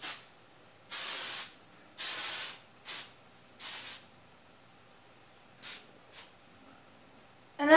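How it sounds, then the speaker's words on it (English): Tresemme travel-size hairspray is sprayed onto hair in a series of short hissing bursts, about eight puffs of uneven length, close and fairly quiet with brief pauses between them. "now we're going to finish off with a little hairspray, and this is by Tresemme, and it's a travel size"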